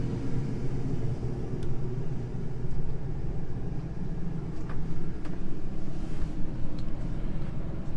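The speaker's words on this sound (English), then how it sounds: "probably hear the AC just a little bit in the background there" An air conditioner runs inside an Airstream Globetrotter 23FB travel trailer as a steady, faint low hum that continues unbroken, with a few light clicks and knocks over it.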